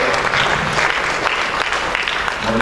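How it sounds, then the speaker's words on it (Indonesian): Crowd applause at the ICCF gathering at MCC in Kota Malang, a thick, even wash of clapping from many people, loud and sustained for a few seconds. "Tepuk tangan dulu buat kita semua"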